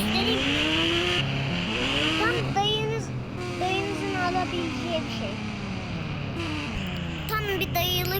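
A car with a handmade engine runs and revs, its pitch rising and falling in repeated sweeps over a steady hum, loud and nearby, while people talk throughout.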